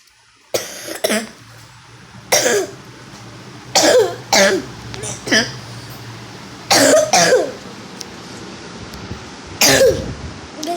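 A person coughs in repeated bursts, about eight harsh coughs spaced irregularly with short quiet gaps between them.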